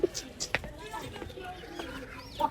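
Pigeons cooing and calling during pigeon catching in Punjab, a few short coos and calls scattered over a busy outdoor background, with a voice talking faintly in places.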